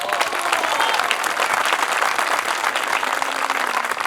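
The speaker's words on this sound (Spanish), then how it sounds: "Un aplauso a don Esteban, ¿no?" Loud, sustained applause from an audience at a talk on the Chilean horse during Heritage Day in Aculeo, dense steady clapping throughout without a break.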